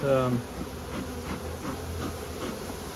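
Honeybees buzz steadily inside an opened hive with a big cluster on the lid, a dense close drone throughout with a brief voice at the very start.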